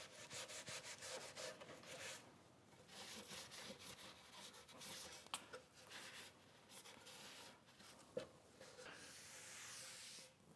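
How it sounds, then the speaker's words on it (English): Face cloth rubbing excess milk paint off a wooden Windsor chair, quiet repeated scrubbing and wiping strokes in an irregular rhythm, close by and faint, with occasional small knocks. "Now all I do is wipe off the excess."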